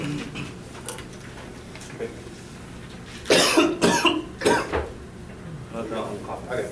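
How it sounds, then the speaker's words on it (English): A few harsh coughs burst out in quick succession over a quiet background, with faint clicks and murmur before and after. "No, I'm coughing."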